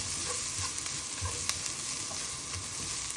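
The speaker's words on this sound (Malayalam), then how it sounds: "അപ്പോൾ കുറച്ചുള്ളി എടുത്ത് അതൊന്ന് വഴറ്റി" Chopped onions sautéing in a pan for chicken curry, a dense continuous sizzle with small crackles, close and steady, no voices.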